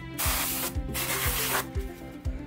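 A compressed air can blasts a loud, steady hiss into the cooling fan of a Hartke bass amp, with short pauses and soft rhythmic ticking from the spinning fan underneath.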